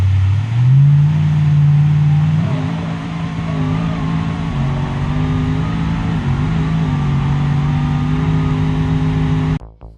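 A twin turbo drag truck tears down the strip in the BeamNG racing game, its engine roaring loud and steady at high revs for the full run before cutting off abruptly at the end.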